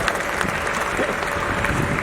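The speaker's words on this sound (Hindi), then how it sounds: "एक बार जोरदार तालियां हो जाएं सुप्रीमली टैलेंटेड असीस कौर के" A crowd applauds at the 51st IFFI grand award closing ceremony in 2021, a continuous, fairly loud burst of clapping filling the whole moment, with a faint tone running underneath.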